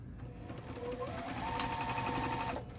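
A sewing machine back stitches a quilt border in a fast, steady, close mechanical rattle lasting a few seconds, with no voice over it.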